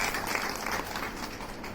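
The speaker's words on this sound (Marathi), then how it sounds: "आपण सर्वांनी त्यांचं टाळ्या वाजून अभिनंदन करूया" Applause from an audience at a Marathi gathering, honouring singers after an emotional song; dense, steady clapping fills the whole stretch at moderate loudness, with no talk over it.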